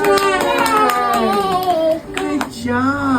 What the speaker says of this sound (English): Can you clap for honey?